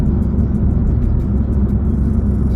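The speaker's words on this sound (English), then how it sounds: "And I'm just going to steady brake down the hill." A car travelling near 100 km/h brakes steadily down a hill on a Lower Sackville road in Nova Scotia, a loud, continuous rumbling engine and road drone with no distinct change.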